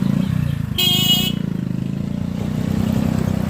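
Motorcycles on a badly broken road to the Jashaikhali cremation fair give a steady, close engine rumble, broken near the start by one short horn honk.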